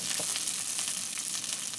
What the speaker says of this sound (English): put the cauliflower, fry it again